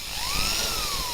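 A power drill fitted with a countersink bit, run in reverse, bores a shallow indentation into soft timber, a steady whirring drone with a rising and falling whine over about a second.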